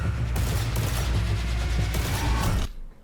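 Rapid mechanical clattering from the D54 battle pistol in the shooter game Marathon, loud and dense for over two seconds, then stopping abruptly.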